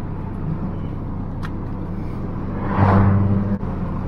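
Volkswagen Lupo GTi engine with a noisy cylinder head idling nearby, a steady low rumble that swells louder for a moment near the end.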